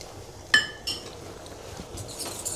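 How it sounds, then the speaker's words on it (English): A utensil clinks against a bowl while a milk tart batter of egg yolk, caster sugar and cake flour is stirred, a few quiet, sharp taps spaced apart over low background noise. "This, you can just give a good stir."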